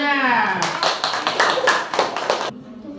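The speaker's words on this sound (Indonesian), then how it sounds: "Ya, tepuk tangan dulu semuanya." A classroom group claps their hands in a short burst of rapid, close claps that stops abruptly, with a voice speaking just before and over it.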